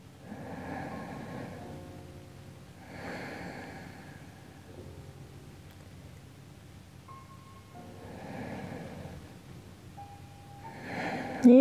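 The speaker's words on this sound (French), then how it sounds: "Respirez tranquillement, calmement par le nez." Slow, calm breathing through the nose during a yoga chest-opening twist, with soft, faint airy inhales and exhales repeating at a relaxed pace.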